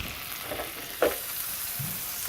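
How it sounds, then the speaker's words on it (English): Butter dropped into a hot cast skillet pulled from the oven sizzles softly and steadily at close range, with a small clink near the middle and no voices. "Hear that nice sizzle."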